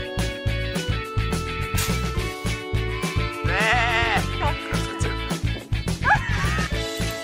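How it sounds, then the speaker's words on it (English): A sheep's bleat from a children's animal toy rises in two wavering cries over a steady, thumping rhythmic music beat. "White Sheep."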